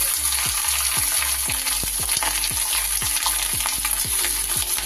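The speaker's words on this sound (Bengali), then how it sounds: "নারকেলগুলো একটু বেশ ভালো করে ভেজে নেবো" Loud, steady sizzling of grated coconut frying in hot mustard oil, with a regular scraping beat as it is stirred.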